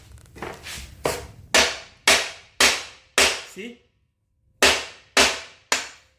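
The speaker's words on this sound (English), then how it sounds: "So see, I will beat with the hammer." A hammer strikes a welded aluminium M12 stud on a 3 mm aluminium sheet, about ten sharp, loud metallic blows in a steady rhythm with one pause, and a brief spoken word at the start.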